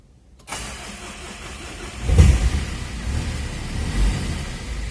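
A Mitsubishi car engine is cranked after a starter motor repair and catches quickly. A brief starter whir is followed by the engine firing with a surge, then a steady, close idle that rises slightly once more.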